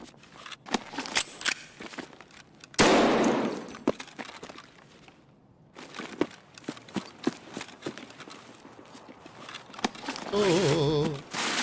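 Gunfire in Escape From Tarkov comes as sharp, scattered cracks, with one loud, dense burst near the middle. Quieter shots and clicks are spread around it, and a brief tonal warble sounds near the end.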